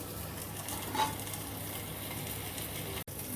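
Paneer cheese bati made with wheat flour frying in oil in a pan, giving a steady close sizzle with a brief louder crackle and a sudden short cut near the end.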